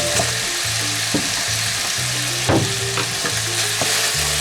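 Potato mixture seasoned with salt being stirred in a sizzling pan, a steady frying hiss broken by repeated scraping strokes of a utensil at a loose, uneven rhythm, close and fairly loud with no talk.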